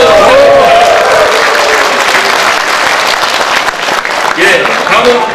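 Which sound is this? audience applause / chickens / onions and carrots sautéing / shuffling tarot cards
audience applause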